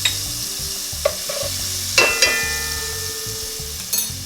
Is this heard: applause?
no